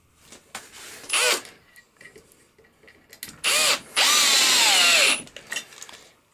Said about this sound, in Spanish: yo lo hago con el taladro porque tengo